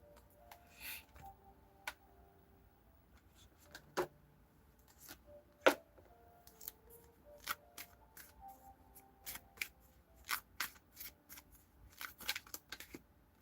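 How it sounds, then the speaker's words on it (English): A tarot deck being shuffled by hand gives crisp, irregular snaps and papery taps, scattered close and fairly quiet over about thirteen seconds with no voices. "Shuffle."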